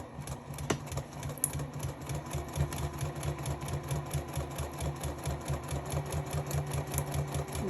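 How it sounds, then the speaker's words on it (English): A sewing machine stitches steadily along the full length of fabric panels, a continuous close, even mechanical whir with a rapid needle rhythm and no talk over it. "We're going to sew the entire length."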